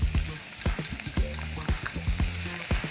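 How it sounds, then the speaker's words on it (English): Annatto oil sizzles hard in a pan, a loud, dense frying hiss close up with repeated crackling bursts and stirring scrapes. "So you don't want it to fry too quickly"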